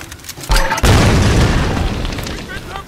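Grenade blasts in the action game Tomb Raider Definitive Edition: a sudden loud thump followed by a second heavier boom that rolls out into a long rumbling tail, close and dominant, with a voice underneath.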